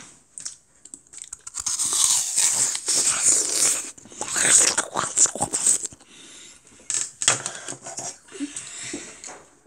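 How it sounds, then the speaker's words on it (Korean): A child bites into a giant apple and chews, with repeated crisp crunches and wet chewing close to the mic, broken by short pauses. "큰 사과 처음 본다"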